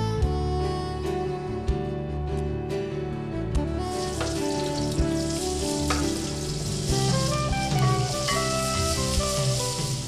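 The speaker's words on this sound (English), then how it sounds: "While the garlic and onion sauté to a translucence" Garlic and onion sauté in a pan, giving a steady, bright sizzle with occasional clinks and stirring scrapes throughout, close and fairly loud.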